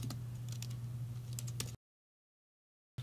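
Code typed on a computer keyboard gives quick, light key clicks in an uneven rhythm over a low hum, then cuts to silence for about a second before resuming.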